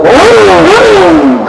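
A reflashed Honda CBR1000RR-R Fireblade SP sport bike engine revs loudly up and down, a close, rising and falling howl lasting under two seconds.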